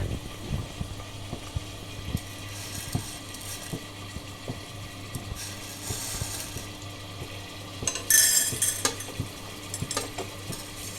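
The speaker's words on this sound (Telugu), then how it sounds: "ఈ స్టవ్ మీద నేను పుచ్చగింజలు, నూగులు వేపుతాను." Watermelon seeds and sesame seeds being dry-roasted in a pan on a stove for mirchi chutney, with a steady low sizzle and repeated soft stirring scrapes and rattles throughout, close and fairly quiet, with no talking.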